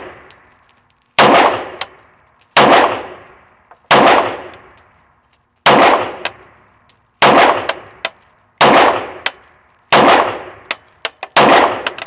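Eight loud pistol shots, some followed by sharp metallic rings as rounds strike steel targets, spaced roughly every one to two seconds, from a Bul SAS II TAC or Staccato P fired with iron sights and an extended magazine.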